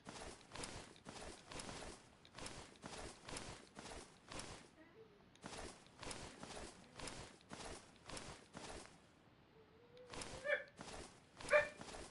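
Dogs wrestling and barking on a floor indoors, a series of scuffling thumps and scrabbling bursts with yips and small whimpers, fairly faint and in the background.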